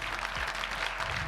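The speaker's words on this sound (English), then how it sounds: "So please give them a round of applause" An audience at an MLK commemoration keynote breaks into applause, a full, continuous crowd clapping that stays steady and fairly close throughout, with no speech over it.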